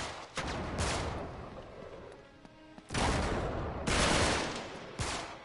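Gunfire from the video game Uncharted 3: Drake's Deception, with several loud bursts of rapid shots separated by brief quieter gaps.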